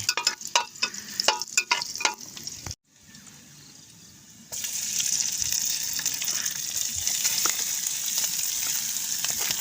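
Sinangag (garlic fried rice) sizzling in a pan over a camp stove outdoors at a mountain campsite, with scraping and stirring strokes, a brief pause, then a steady loud sizzle.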